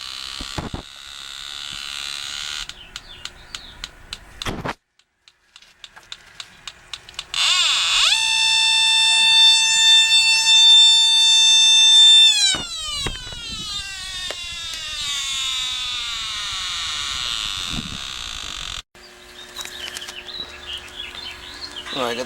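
A refrigerant leak detector sniffer alarms at a leak on an air conditioning unit, its loud electronic tones climbing and sweeping in pitch in rapid, insistent bursts, with scattered clicks and handling noise between them.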